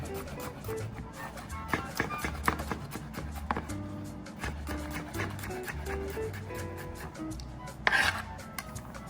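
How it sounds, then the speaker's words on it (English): A knife slices a jalapeno pepper on a cutting board, producing a run of quick, light cuts and taps at close range, with a dog barking faintly in the background. "Same slices with the jalapeno."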